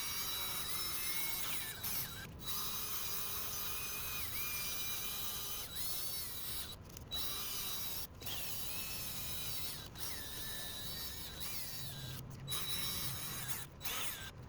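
A drill spins a gold 3M sanding disc against a car headlight lens, a continuous close whirring and scraping grind broken by short pauses as the drill stops and restarts.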